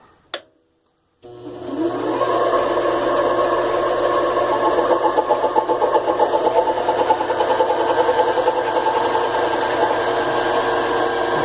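A CX 704 minilathe turns a collar, starting after a brief click and silence into a steady, moderately loud whirring motor hum with a faint rhythmic ripple as the cut proceeds, no voices.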